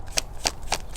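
A deck of tarot cards is shuffled in three quick riffling bursts spaced evenly apart, close and fairly soft, with no talking.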